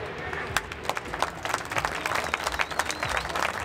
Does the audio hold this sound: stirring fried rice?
no